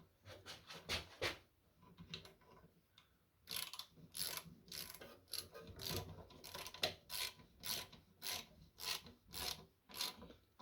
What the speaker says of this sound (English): To make sure the ratchet's in the moving forward position